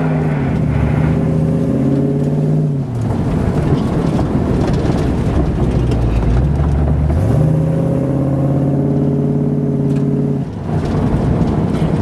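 An older car fitted with a 2-barrel carburetor drives along, its engine climbing in pitch through each gear, then dropping abruptly at two shifts before revving up again, loud and close with road rumble beneath.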